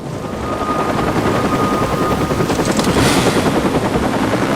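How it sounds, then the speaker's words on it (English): Helicopters flying in the video game Watch Dogs, a loud continuous rotor thrum and engine roar that holds steady and swells slightly near the end, with no talking over it. "Now what about these helicopters?"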